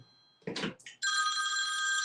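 A telephone rings with an incoming call, starting with a brief rustle and then a bright, steady electronic bell tone that holds loud and unbroken.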